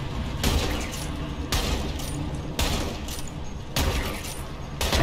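Gunfire in the video game Borderlands 3 comes in dense bursts, loud and close, each volley cutting in sharply over a constant noisy action background, with no speech.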